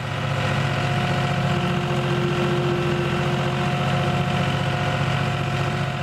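A farm tractor drones steadily at a constant idle-like pitch while running a manure spreader that throws wood chips onto pasture, the engine hum continuous and fairly close with no talking.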